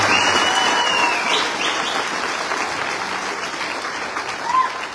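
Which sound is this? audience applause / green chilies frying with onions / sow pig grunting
audience applause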